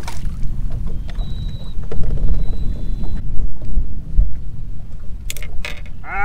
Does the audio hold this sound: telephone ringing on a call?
no